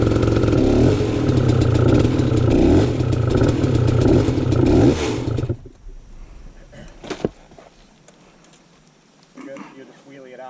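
Hard enduro dirt bike engine revving loudly in a creek bed for about five seconds, then cutting out to near quiet with a few clatters and faint voices.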